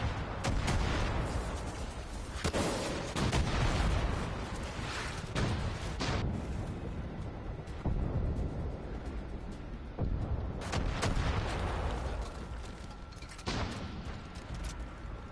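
Heavy weapons fire in Far Cry 5, a rocket launcher among repeated booming blasts and gunfire bursts, loud and dense throughout with sharp explosive onsets spaced every second or two and no talk.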